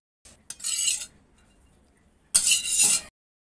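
A metal spoon scrapes and clinks against a cooking pot while spiced potato samosa filling is transferred into another vessel, in two short bursts of clatter separated by a quiet pause.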